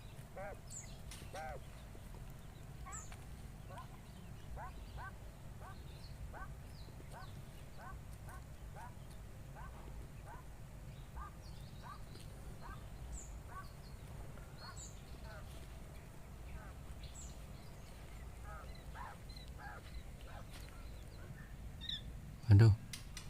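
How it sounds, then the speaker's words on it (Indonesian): Young quail chicks in an aviary call for their mother after she flew up, giving thin, repeated peeps in a steady, quiet scatter over a low background hum, with a brief thump near the end. "Jadi ini anaknya teriak-teriak cari induknya."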